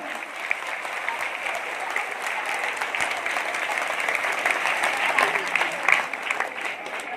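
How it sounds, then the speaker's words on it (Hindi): Audience at a Shrimad Bhagavat Katha event claps again, a continuous crowd of hands swelling slightly louder toward the end, steady and close throughout. "एक बार और जोर से तालियां।"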